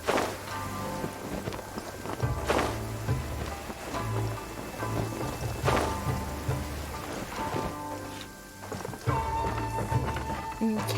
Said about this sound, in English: Whoop, starting to rain.